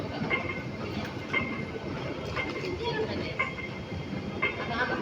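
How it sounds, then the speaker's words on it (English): An East Rail Line train bound for Wu Kai Sha pulls into a Hong Kong station with a steady rolling rumble and clatter. A platform announcement voice speaks over it throughout. "往烏溪沙嘅列車即將到達，請先讓車上乘客落車。"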